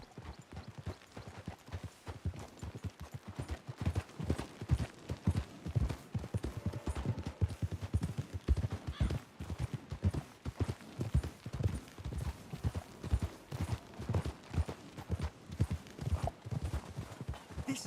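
Horses walk at an unhurried pace, their hooves clip-clopping in a steady, close, even rhythm that continues for the whole stretch with no voices.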